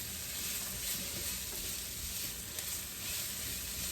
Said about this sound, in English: So this is one whole medium onion. I'm just sauteing it.